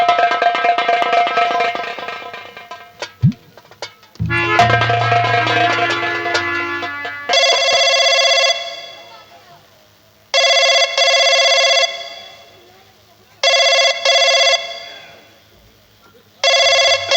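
An old-style telephone bell rings in repeated bursts, loud and close, with short silences between rings, after some music at the start.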